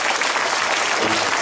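Enthusiastic clapping from a live audience greeting a band performance at a Caravan show, dense and steady throughout with no voices standing out above it.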